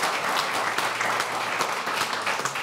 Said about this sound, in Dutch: Applaus voor die stelling.